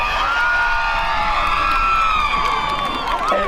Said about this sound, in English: It looks like there's a cheering section for Sewell